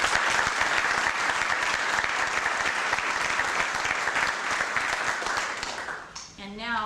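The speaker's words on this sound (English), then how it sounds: "I'd like you to provide a round of applause in recognition of the work that these folks do on a daily basis" An audience at a federal judiciary anniversary ceremony gives a sustained round of applause, dense and steady clapping from start to nearly the end, then tapering off as a voice begins.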